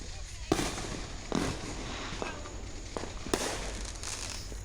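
Fourth of July fireworks bursting in the distance, a few sharp booms and crackles spaced a second or so apart over a steady background rumble, with faint voices around.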